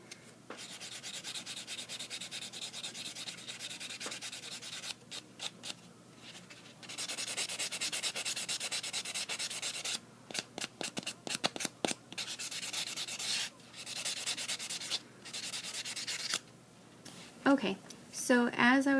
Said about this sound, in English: as I was buffing out my nails